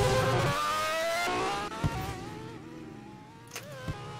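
A car engine in a drag-racing video game revs loudly, a sustained buzzing drone with shifting pitch over about four seconds, dipping and rising with a few brief sharp accents near the end.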